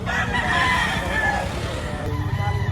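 A rooster at a gamefowl market crows in one drawn-out call, close and fairly loud, with crowd noise and some talk around it.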